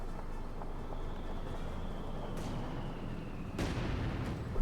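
Mortar fire in Company of Heroes 2 during a Wehrmacht versus US Forces match: two sharp booming blasts, the second louder, break through a constant rumbling battle soundscape.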